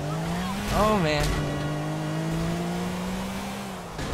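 Cars in the GTA 4 Carmageddon mod roar and squeal with pitch-bending engine and skid tones, interrupted by crash thuds, while a man reacts under the noise.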